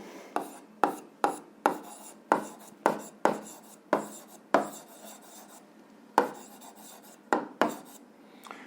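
Pen writing by hand on paper, close and fairly quiet, with a steady run of sharp scratchy strokes and brief pauses between words.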